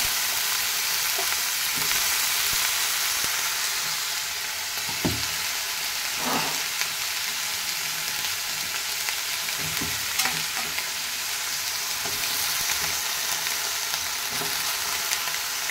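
Beans, eggplant, potato, a little carrot and radish fry in oil, a steady, moderate hiss of sizzling broken by a few sharp stirring knocks and scrapes.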